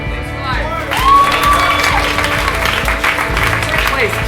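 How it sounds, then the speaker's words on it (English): Audience applause with scattered cheering at an awards ceremony for a music arcade game tournament (Technika), broad steady clapping across the whole stretch, with a tonal musical sound and crowd noise mixed in. "Just clap for everyone."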